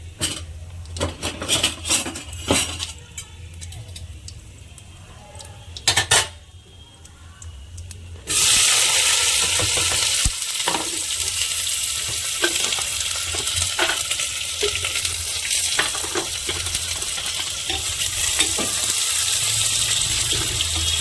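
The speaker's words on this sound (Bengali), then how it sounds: "এবার পেঁয়াজটা আমি দিয়ে দেব" Whole cloves and black pepper crackle softly in oil with occasional stirring clatter, then sliced onions drop in and a loud, steady sizzle takes over for chicken pulao, close up and without talk.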